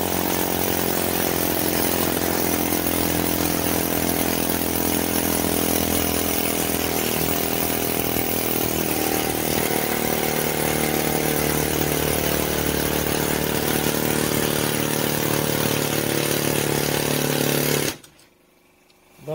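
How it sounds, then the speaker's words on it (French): A Lacmé 190mm chipping hammer fitted with a sheet-metal cutting chisel runs at a loud, steady pneumatic-style chatter as it bites through sheet metal, continuing unbroken for about eighteen seconds before cutting off abruptly. "On va voir à la découpe. Là, je vais monter un burin découpe-tôle."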